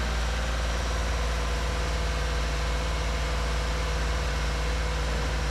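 The boosted V8 of a classic Range Rover idles just after its first start in a workshop, a steady, even rumble and hiss that runs unbroken throughout with no talking.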